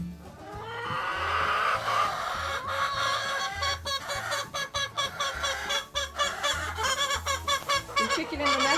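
Hens cluck and squawk inside a snowy-weather chicken coop, a busy overlapping chorus of close, loud clucking with rising calls and steady chatter throughout.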